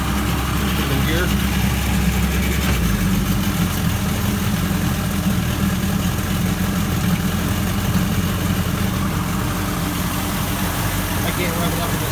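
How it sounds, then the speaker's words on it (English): A 1980 50hp two-stroke four-cylinder outboard motor with two carburetors and a long shaft idles in gear in a test tank, giving a loud, steady low burbling drone throughout while someone talks over it. "Okay, it's down to an idle."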